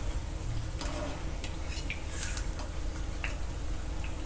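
Millet paniyaram frying in a pan while being turned one by one, with a steady soft sizzle under a series of light clicks and taps from the utensil against the pan.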